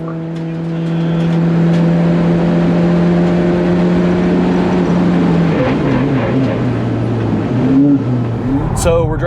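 A Nissan Z on Bridgestone Potenza Sport tires driven hard on a track, a loud steady engine drone heard from inside with pitch changes as it shifts and slows, under continuous talk.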